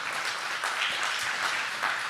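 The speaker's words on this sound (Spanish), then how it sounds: "denle un fuerte aplauso al Señor por eso" A church congregation applauds the Lord during a Spanish-language service, a dense, steady crowd clapping that carries evenly for a couple of seconds with a few stronger swells and no talking.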